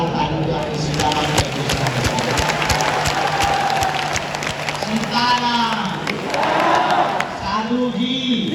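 Large crowd at a Bageshwar Dham Sarkar religious gathering in Shivpuri, Madhya Pradesh, clapping and cheering steadily throughout, dense and loud, with voices shouting and calling over the applause.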